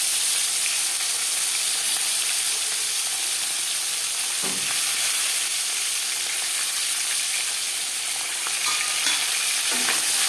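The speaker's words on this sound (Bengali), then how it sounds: "পরের মাছ মাথা একইভাবে ভেজে নেব।" Tuna fish head frying in oil for a light tuna curry, a steady bright sizzle and hiss that holds close and loud throughout, with a few soft stirring knocks in the pan.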